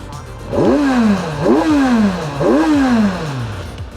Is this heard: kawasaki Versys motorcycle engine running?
yes